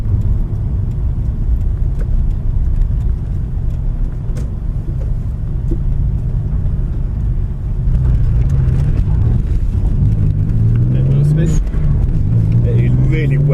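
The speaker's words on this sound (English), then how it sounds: "we'll put the mic in the engine bay a bit, so you can really hear the noise of what 2J does" A Toyota Supra MK4's 2JZ engine idles with a deep, steady rumble, then its pitch rises and falls in a few revs, heard up close and loud from the engine bay on a wet, cold day.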